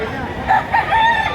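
Roosters crow repeatedly at the busy Lipa Livestock Market chicken auction in the morning, several overlapping calls close by over a steady crowd murmur.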